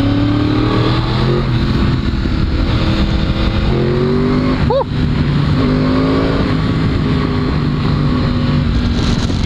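A loud 1000 cc 2011 Yamaha R1 superbike with an undertail exhaust howls up close under heavy wind noise, its pitch rising through gears with a quick shift blip midway.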